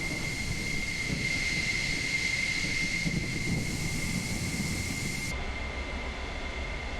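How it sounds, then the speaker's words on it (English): An F-14A/B fighter jet in Microsoft Flight Simulator 2020 taxis toward the runway. A steady engine whine and broadband hiss hold at a constant loudness throughout, then the tone changes slightly near the end. "Let's taxi to the runway."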